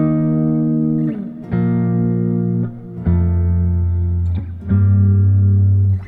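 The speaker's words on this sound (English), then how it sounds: "I have my electric guitar plugged in and we are using the Tweeds preset from Amplitude 5." Electric guitar playing power chords through the Amplitube 5 Tweeds preset, with four or five separate chords struck in turn. Each one rings out clearly for about a second with a warm, lightly driven amp tone, and there are short gaps between them.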